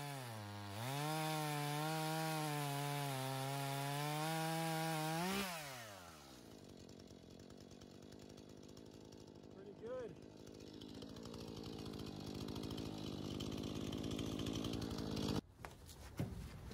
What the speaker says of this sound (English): Now I need to cut all the ends perfectly flat.